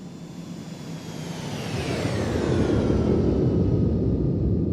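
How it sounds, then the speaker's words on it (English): A simulated jet aircraft passes by in the flight simulator X-Plane 12, likely a CitationJet 525, with a broad engine roar that swells steadily louder as a falling whine sweeps through it, with no voices. "I love the X-plane flyby."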